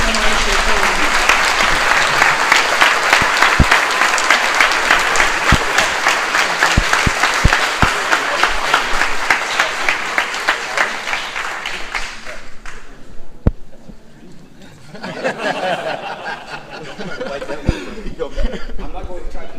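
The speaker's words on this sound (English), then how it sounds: "So please, again, one more round of applause while Bob is handing out our special commemo" A dense, loud round of audience applause at a military recognition ceremony for veterans and active-duty service members, sustained clapping that thins out and fades near the end, with a few scattered claps and murmurs afterward.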